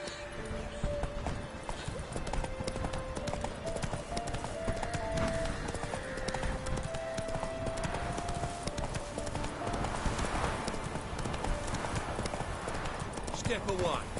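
Horse hooves clip-clop steadily through the open world of The Witcher 3: Wild Hunt, an even walking rhythm carried over ambient game sound, with voices speaking at times.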